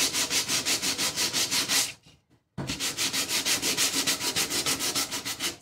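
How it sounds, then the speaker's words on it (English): Steady rhythmic rasping of sandpaper rubbed back and forth on a wooden frame by hand, up close, with a brief pause midway before the strokes resume. "now we're gonna do the sanding on the frame"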